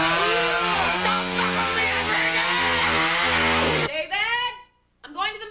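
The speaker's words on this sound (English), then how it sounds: "Get a fucking chainsaw!" A chainsaw engine revs loud and steady for several seconds, then cuts out into quieter sputtering revs and a short gap before restarting, with shouting voices mixed in.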